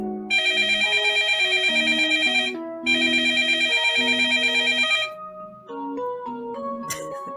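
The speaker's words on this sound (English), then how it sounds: "The phone? I picked up the receiver." Electronic telephone ringing close and loud in two long warbling bursts separated by a brief gap, followed by a short electronic melodic tone, with no talk.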